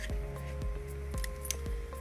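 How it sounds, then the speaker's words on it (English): Scissors snip around the edge of a painted paper plate, cutting small lines in a quick, steady rhythm of close, crisp cuts, about four in two seconds, with no talking. "you'll be cutting all of the little lines around"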